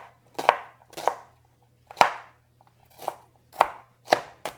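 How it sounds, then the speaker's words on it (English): An onion being roughly chopped with a knife on a board for tomato soup, seven crisp, close knocks at an uneven pace with short gaps, a faint steady hum underneath and no voices. "So I'm going to chop, just roughly chop."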